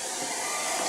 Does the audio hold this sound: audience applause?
no